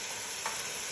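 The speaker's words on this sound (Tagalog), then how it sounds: "Mix ko siya." Harira with lentils and chickpeas being stirred in a pot, a soft continuous scraping swirl that is faint and close, with no voices.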